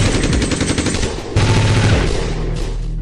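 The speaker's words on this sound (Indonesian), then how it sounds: "Serentetan tembakan senapan otomatis dari para marinir dilepaskan," Automatic rifles fired by marines in a shipboard attack, a loud sustained rattling fusillade of rapid shots filling the whole clip with no voices.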